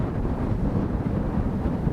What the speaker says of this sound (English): It is cold, it is windy.